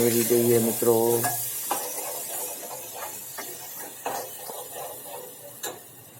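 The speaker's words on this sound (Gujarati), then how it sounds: "રાઈ ફૂટી જાય એટલે એક ચમચી હિંગ તેમજ આપણે કાંદા ટમેટા મરચાંનું જે કટિંગ કરીને ઝીણું રાખેલું છે" Chopped onions, tomatoes and chillies dropped into hot oil with asafoetida and mustard seeds for a dhaba-style onion gathiya curry, a loud burst of sizzling that settles into a steady hiss with occasional stirring scrapes.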